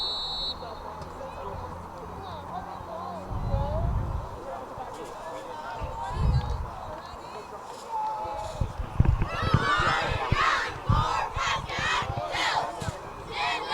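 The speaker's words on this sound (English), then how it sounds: "You hear our cheer team that has made the trip here to Mahwah" A high school cheer team chants and yells at a football game in Mahwah, distant crowd shouts rising in rhythmic bursts in the second half, under a commentator's ongoing talk.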